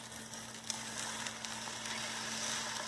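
An egg frying in an oiled pan, a faint, steady sizzle with a low hum underneath and a couple of light ticks.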